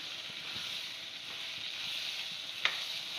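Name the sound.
potato, brinjal and shrimp curry cooking in masala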